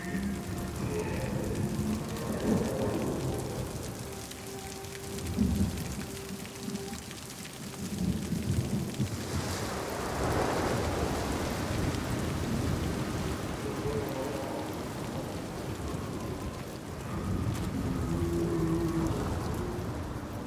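A thunderstorm with steady rain in the video game Hellblade II, a dense wash of rainfall with low rumbling thunder swelling and fading across the stretch, no voices.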